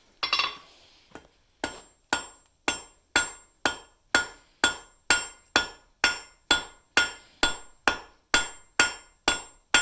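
A blacksmith hammers light, hot bar stock on an anvil, drawing it out to a point: about sixteen loud, evenly spaced ringing blows, each decaying quickly, after a brief scrape at the start.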